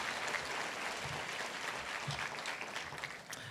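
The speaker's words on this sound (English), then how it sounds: "Why don't we give the Pacific Islanders Club, Mitamitaga Osamoa, and Hawaii Club dancers another round of applause." An evening audience applauding Pacific Islanders Club, Samoan and Hawaii Club dancers, with dense, steady clapping heard from a distance at a fairly low level that holds the whole time.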